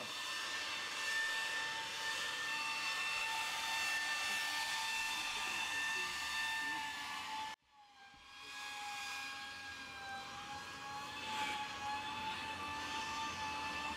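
A steady, loud whining motor drone with a high tonal pitch, briefly cutting out midway, then restarting and running on; a leaf blower blowing snow.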